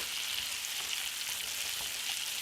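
Potatoes fry and char in a hot pan, giving a steady, even sizzle that stays close and fairly quiet throughout, with no voices over it.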